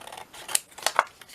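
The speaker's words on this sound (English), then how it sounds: "Let's cut some of these out." Scissors snip through paper ephemera in a few quick, close cuts, crisp blade clicks and rustles spaced unevenly across a brief quiet moment.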